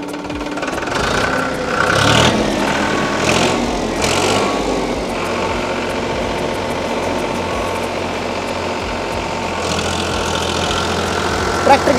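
A new Farmtrac 45 tractor engine runs steadily at a low, chugging rumble throughout, with a few brief voices and knocks over the constant drone.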